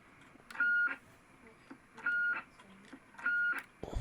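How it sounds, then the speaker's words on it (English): Three evenly spaced high-pitched electronic beeps, each held briefly with pauses between, clear and close, followed by a short thump at the end. "I like that high beep."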